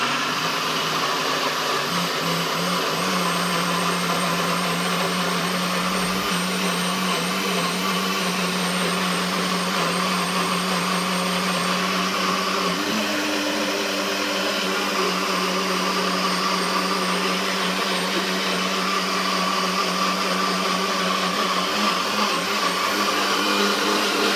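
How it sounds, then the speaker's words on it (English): An electric blender blending carrot punch whirs with a steady, loud motor drone that shifts pitch slightly about halfway through as the mixture breaks down, running alone without talk. "So what I'm gonna do is blend this now."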